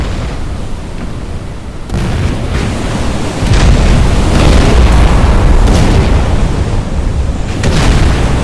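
A torpedo strikes a ship in the naval game Battleship Command, setting off a loud, sustained rumbling blast that builds in stages and holds heavy and close throughout.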